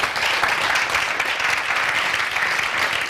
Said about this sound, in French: bien, on applaudit.